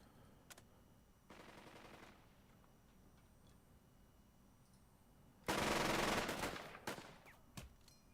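Machine gun fire in the World War II strategy game Burden of Command: a short burst, then a louder, longer burst of rapid gunfire, with a few isolated sharp cracks around them over a quiet background.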